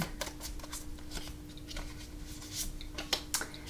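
Tarot cards being shuffled by hand, a steady papery riffle and flutter of cards with a few sharper snaps near the end, close and fairly quiet, with no voice.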